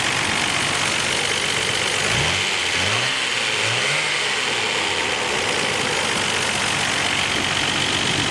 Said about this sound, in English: Sound of the engine is very good.